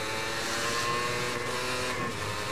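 A Suzuki Satria 120 motorcycle engine drones loud and steady at high revs, a dense, buzzing tone holding nearly constant with slight pitch shifts as it pulls through the gears.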